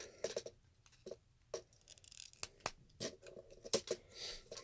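Plastic parts of an Optimus Prime Revenge of the Fallen toy click and snap into place in a string of short, close, irregular clicks and rustles.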